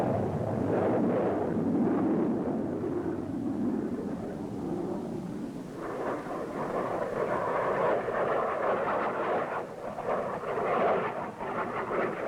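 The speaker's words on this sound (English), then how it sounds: "Aircraft take off to deliver the sensors to the selected locations." Military aircraft take off in a deep, continuous roar that swells and rumbles for several seconds, loud and with no talk.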